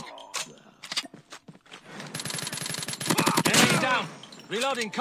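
Shots from a standard base Peacekeeper shotgun in a video game, starting with scattered single blasts and clicks, then a dense, loud burst of firing with some game sounds layered over it.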